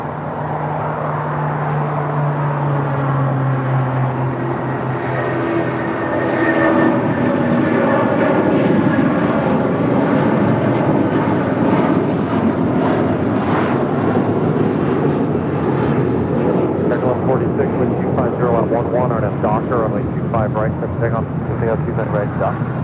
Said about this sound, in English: United Airlines flight 2609 heading to Boston on a